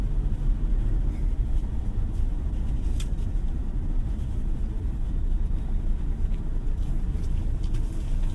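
Heard from inside the cabin of a Toyota Hilux GR-S pickup, the 2.8-liter diesel engine drones in a steady low rumble while the tires roll over a brick road, with faint rattles and no talking.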